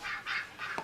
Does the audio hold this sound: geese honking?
yes